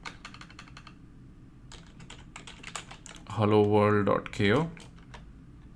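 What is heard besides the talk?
typing on a computer keyboard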